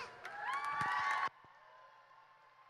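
Crowd at a swim meet cheering and applauding for young swimmers at a championship, a loud burst of shouts and claps for about a second before dropping to a faint hum.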